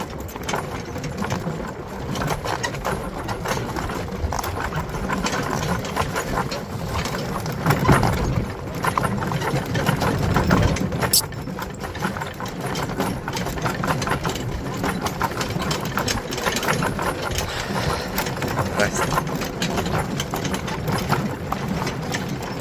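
Horses plodding with scattered hoof clops under a constant rumbling, noisy background, steady and fairly loud throughout with no clear talk.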